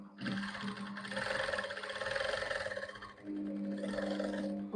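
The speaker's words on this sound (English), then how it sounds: "I'm just going to start stitching it." A sewing machine stitches a drawstring kimono in a steady, close whirring run with a brief pause, then resumes.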